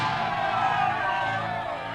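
A large crowd in a Hindi-dubbed Balakrishna action movie roars steadily at full volume, cheering and shouting without pause, the broad wash of voices filling the whole scene.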